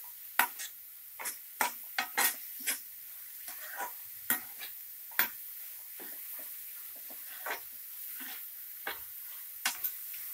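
Frying in a pan while making tomato mushroom gravy: a faint steady sizzle under frequent sharp clicks and scrapes of a spoon stirring against the pan, close by.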